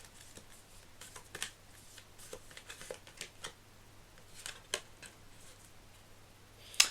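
Tarot cards shuffled by hand: a string of soft, quick riffling flicks and taps in irregular bursts, close and fairly faint, with no talking over them.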